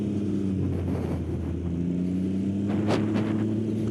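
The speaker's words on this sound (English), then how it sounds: "Really fun bike to ride." A 2019 Can-Am Ryker three-wheeled motorcycle rides along with a steady, loud engine drone and road rumble, close up and without talk.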